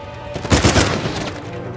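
Gunfire bursts in the Uncharted 4 video game, a rapid volley of shots swelling midway through the clip over a dense, sustained background of game noise, with no speech.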